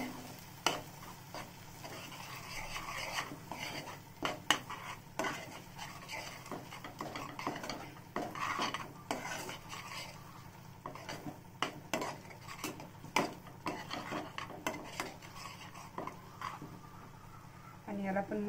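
A spoon scrapes and clinks against a pan while soaked cashew paste is stirred for mushroom masala, giving steady irregular scraping taps throughout, with faint sizzling and a voice talking over it.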